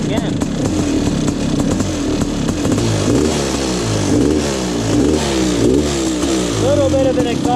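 Kawasaki KX500 two-stroke dirt bike fires on the first kick and revs repeatedly, a loud close buzzing engine rising and falling in pitch, with a slight exhaust leak and voices faintly underneath.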